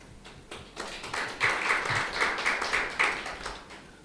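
Crowd applause at a swearing-in ceremony for a national Olympic committee executive, a steady wash of many hands clapping, moderately loud, swelling midway and holding before easing off.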